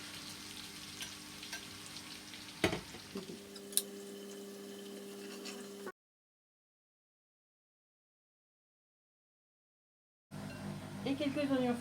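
Roots finishing cooking in a pan give a close, soft frying sizzle with a few sharp utensil clicks. It cuts to silence partway through, then returns as a louder crackle.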